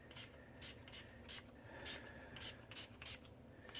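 Rubbing alcohol sprayed from a pump bottle onto freshly poured candy corn soap, a series of short, quiet hissing puffs in an irregular rhythm over a faint background.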